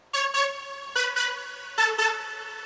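A bright synthesizer plays a short melody of bold, buzzy notes in quick pairs, clear and close with no voices.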